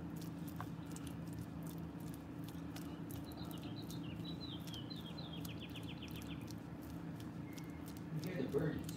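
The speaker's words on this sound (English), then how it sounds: "You hear the birds." Small birds chirp outdoors in a quick run of high, faint tweets over a steady low background hum and light rustling, with a soft clatter near the end.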